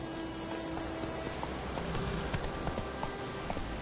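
Hooves of the horse Roach clop steadily in The Witcher 3 video game, a regular trotting rhythm under a dense, constant hiss resembling rain.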